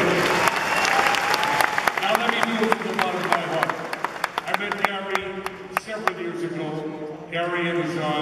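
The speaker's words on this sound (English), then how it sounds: "Now, you can applaud that." Audience applause at a concert introduction, dense clapping with sharp individual claps standing out, fading as a voice comes in at the end.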